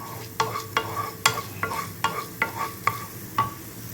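Coriander seeds fry in slightly heated oil while a spoon stirs and scrapes the pan about ten times in a steady rhythm, each stroke a sharp near click over a faint sizzle.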